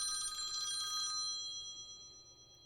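A telephone rings indoors, a bright electronic bell-like trill lasting about a second before trailing off, with a faint hum beneath and no voices.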